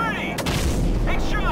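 Gunfire in Call of Duty: Modern Warfare, with two heavy booming shots about a second apart over a constant low engine drone.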